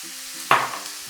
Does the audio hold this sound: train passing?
no